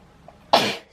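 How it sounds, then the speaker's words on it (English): A single short, sharp sneeze bursts out loudly after near silence, lasting about a third of a second. "Sneezing. Sorry."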